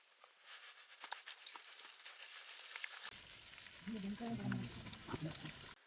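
Green chillies hit hot oil for a village-style quail fry. After about three seconds of near silence, a soft, crackly sizzle starts and grows, with faint low rumbles and clatter underneath.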